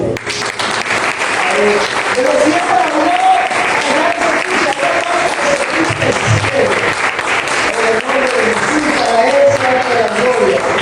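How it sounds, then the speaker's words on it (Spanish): A church congregation claps loudly and continuously during a pastor's sermon, a dense wash of applause with voices and a few words spoken underneath. "Si tú lo crees, dale un aplauso."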